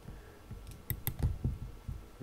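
Soft mouse clicks, a small cluster of quick taps and thuds close to the mic, as points are placed with the polygonal lasso tool while drawing in Photoshop.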